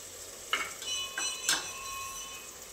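Half a bowl of yogurt goes into a pan of biryani masala with turmeric, giving soft wet plops and clinks of a spoon against the pan over a low steady sizzle, close and quiet.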